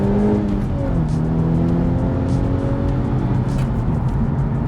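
A Honda Civic Type R engine drones loudly and steadily under full throttle while merging, its pitch sliding and climbing as it accelerates, heard from inside with road noise.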